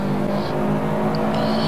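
A racing car engine in the PC video game Assetto Corsa holds a steady, loud droning note with small pitch shifts throughout, alone with no talking.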